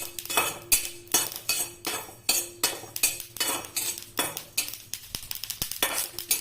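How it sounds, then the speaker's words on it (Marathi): Sesame seeds dry-roasting in a pan for poha ladoo, stirred with a utensil: close, loud, rhythmic scraping strokes against the pan, roughly two per second, with faint light crackle between them and no talking. "तीळ पण लगेच भाजून होतात, हे टाकल्यानंतर बघा उडायला लागलेले आहे"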